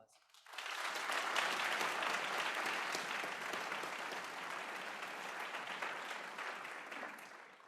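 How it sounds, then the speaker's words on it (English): Audience at a North Idaho College registered nursing pinning ceremony, the 50th, claps in a sustained round of applause that rises quickly, holds steady for several seconds, then tapers slightly in a large hall. "Let's give them a round of applause."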